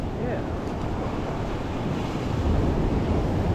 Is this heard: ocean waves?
yes